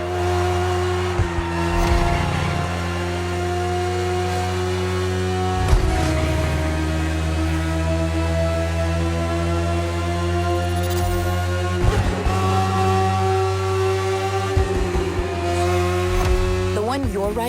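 A BMW S1000RR superbike engine in The Crew Motorfest drones at high revs, its tone holding steady and shifting at intervals, with occasional sharp bursts of noise.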